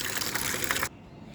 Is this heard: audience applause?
no